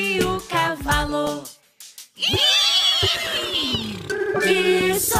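A voice imitates a horse neighing in a children's animal-sounds song, giving loud, quavering whinnies over bright music.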